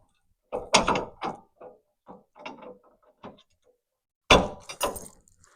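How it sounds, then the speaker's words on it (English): Metal lift link arms for an X590 snowblower attachment are worked onto a bottom bracket: a series of sharp clanks and knocks, loud and close, separated by brief quieter rattles and scrapes, with no talking. "we're going to install the lift link arms onto this bottom bracket, which they should line up pretty good"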